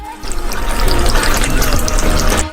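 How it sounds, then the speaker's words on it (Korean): Water pours steadily into a pot holding 350 g of sugar, the start of a candy syrup, making a continuous loud splashing and gurgling fill that runs for about two seconds with no talk. "물 100ml를 부어요."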